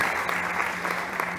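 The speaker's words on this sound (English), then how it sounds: "Big applause." Audience applause at a startup competition stage event, a brief, steady burst of clapping from a crowd.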